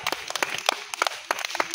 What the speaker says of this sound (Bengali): সবাই রাব্বির জন্য হাততালি, সবাই হাততালি।